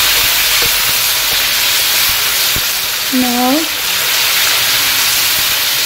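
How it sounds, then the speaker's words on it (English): Chopped ginger and garlic sizzle in hot oil over a high flame, a loud steady frying hiss throughout, with a brief spoken word partway through. "I'm going to fry this on high flame"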